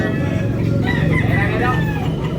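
Chickens and roosters at Tabunok, Talisay, Cebu in the early morning, with a loud, close rooster crow rising and falling over a background of clucking fowl.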